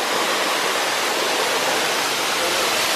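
Manoa Falls in Hawaii pours down steadily, a dense, constant broadband roar of falling water that stays loud and close for the whole stretch with no voices over it.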